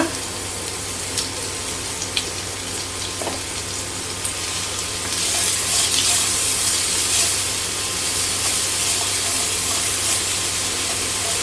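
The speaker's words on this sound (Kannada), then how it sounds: "ಇವಾಗ ಆಯಿಲನ್ನು ಹಾಕೊಳ್ಳೋಣ. ಒಂದು 2-3 ಟೇಬಲ್ ಸ್ಪೂನ್ ಹಾಕ್ಕೊಂಡು ನಾವು ಫ್ರೈ ಮಾಡ್ಕೊಳ್ಳೋಣ." Bitter gourd frying in a few spoonfuls of hot oil in a pan makes a constant soft sizzling hiss that grows louder and fuller halfway through, with an occasional faint click.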